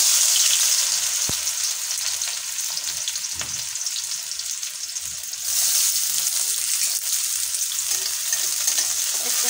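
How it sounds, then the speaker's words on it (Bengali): Chopped onion frying in hot oil in a kadai, a steady broadband sizzle that swells louder midway, with a couple of brief utensil knocks and no talk. "তেলটা গরম হয়ে গেছে, তেলের মধ্যে দিয়ে দিচ্ছি পেঁয়াজ কুচি।"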